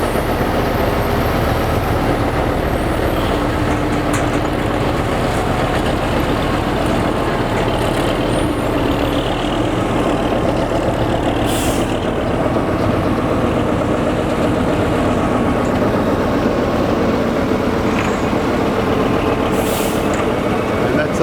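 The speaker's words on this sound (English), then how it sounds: "there's about 20 tonne on that truck" A truck fully loaded with about 20 tonnes rumbles past, a loud continuous engine roar with broadband road noise holding steady throughout, close by, with occasional brief hissing bursts.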